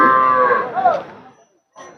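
A Holstein Friesian cow, one of several HF crossbreds at a cattle market in Punganur, Andhra Pradesh, gives one long, loud, close moo, then falls quiet before a shorter grunt begins.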